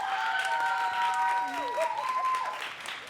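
Audience applause and snapping greet a poet at a Boston poetry event, steady and fairly full throughout, with a few tonal sweeps running over the crowd noise.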